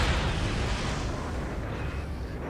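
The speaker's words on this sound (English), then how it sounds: "All weapons fire!" Starship weapons fire in the video game Star Fleet Command lands as a heavy, rumbling blast, loud at the start and slowly trailing off into a sustained roar.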